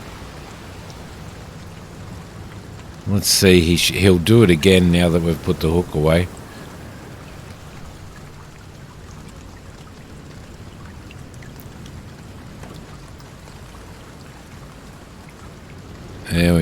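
Steady rain hisses in the Deadliest Catch video game, a constant wash of falling water that runs under a brief stretch of someone talking and carries on alone afterward.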